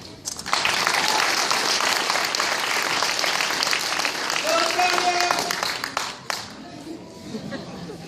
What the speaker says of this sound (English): They get a round of applause for their commitment to each other.